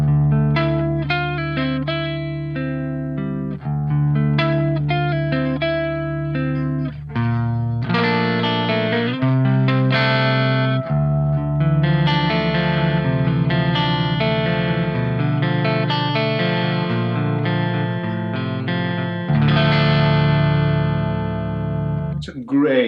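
Clean electric guitar tone through a GSL amp's clean channel, miked with Sennheiser E906 and MD421, playing a steady run of ringing notes and chords for over twenty seconds, close and full.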